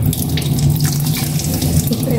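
Water runs steadily from a kitchen tap while cooking chicken liver and gizzard adobo, a continuous close rushing stream for about two seconds.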